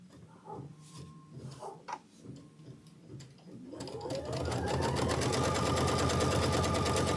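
An embroidery sewing machine stitches a quilt tack-down of the background, starting after some handling noises and brief talk, then running loud with a fast, steady rattling rhythm to the end.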